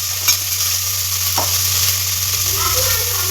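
Tomato sizzles with ginger garlic paste in a hot pan for a Tamil-style gravy, a steady close frying hiss with a couple of stirring scrapes and a low background hum.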